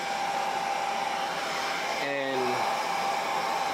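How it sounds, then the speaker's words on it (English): Regular hair blow dryer running on hot setting, a steady close whooshing hum throughout with a brief word spoken over it. "if you just have a regular blow dryer, just a blow dryer, throw it all the way on hot."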